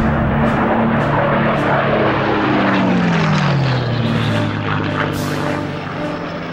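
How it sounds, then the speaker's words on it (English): Enemy propeller aircraft in the World War II shooter Heroes & Generals roar loudly overhead, a droning engine whose pitch falls as it passes close by, then fades slightly as it moves away. "Yeah, sure hope there's no enemy aircraft around here."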